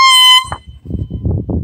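A short, loud, piercing blast from a cheap dollar store air horn cuts off abruptly after a moment, followed by muffled voices talking close by.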